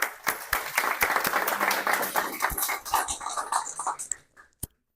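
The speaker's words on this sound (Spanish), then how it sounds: "un aplauso para Cristian" A small audience at a hands-on computer vision session claps for a presenter, a short burst of applause that thins out into a few scattered claps before stopping.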